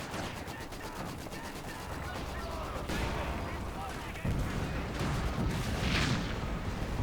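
Artillery and gunfire in the World War II strategy game Company of Heroes 2 roar on a 2v2 match on the Wolfheze map, a dense, continuous barrage with heavier bursts surging partway through.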